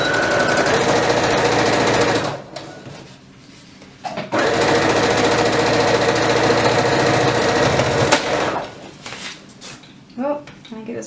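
A sewing machine runs in two long continuous bursts stitching a half-inch seam on a little girl's elastic waist dress, loud and close, with a short pause and brief handling noises between.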